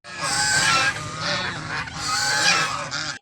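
Loud, close honking from a goose, a few harsh nasal calls in quick bursts with brief pauses between them.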